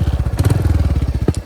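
A 2023 Royal Enfield Hunter 350 single-cylinder engine idling close up, its exhaust thumping in a fast even putt-putt rhythm with a brief blip partway through.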